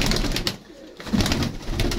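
Pigeons of an old bloodline coo close by, several soft throaty calls in a rooftop loft amid background rustling and noise.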